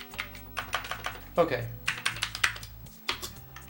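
Keys clatter on a Commodore 128D keyboard with a sticky shift key, in quick irregular bursts, close and fairly loud, while a voice speaks briefly.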